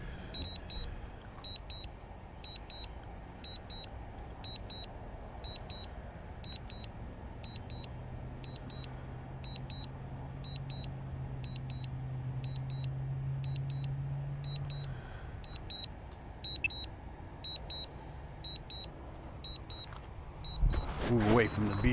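A beeper sounds as a steady series of short, high double beeps repeating about every second, moderately loud over a low outdoor hum near a build site, ending with a brief rustle.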